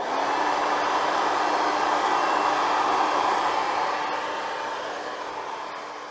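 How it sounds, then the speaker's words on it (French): A hair dryer blows steadily to dry fresh paint on car brake calipers, a loud continuous whirring hiss with a steady tone that eases slightly toward the end, with no talking. "Je vais utiliser un séchoir à cheveux pour accélérer le processus de séchage"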